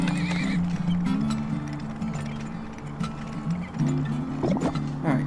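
Repeated horse neighs and whinnies over steady clip-clopping hooves in the game Turmoil, loud and close, with looping game music beneath and no talking.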